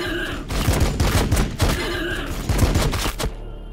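Point-blank gunfire in Warhammer 40k Battlesector rattles in rapid, repeated volleys, loud and close, with dense overlapping shots before cutting off abruptly.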